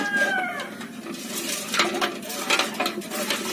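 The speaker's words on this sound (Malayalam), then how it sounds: "ഇനി ഇത് നമുക്ക് നന്നായിട്ടൊന്ന് ഇളക്കി കൊടുക്കാം." A spoon stirs Amrutham powder into a drink in a kitchen, giving a steady run of light scraping and clinking against the container that continues without a break and with no talking.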